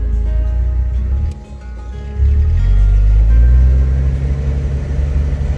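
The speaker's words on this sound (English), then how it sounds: "Let's rev it up, see what it does." A 1987 Jeep Wrangler YJ engine idles with a low rumble, dips briefly, then is revved up to a steady, louder drone that holds close by.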